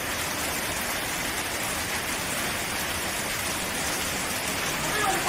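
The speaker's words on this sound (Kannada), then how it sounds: "ಇಷ್ಟೊಂದೆಲ್ಲ ಮಳೆ ಬರ್ತೈತಲ್ಲ ನಮ್ಮೂರಾಗೆ." Heavy rain pours steadily on a village during a festival in Karnataka, a dense continuous wash of noise that swells slightly toward the end, with a voice faintly present beneath it.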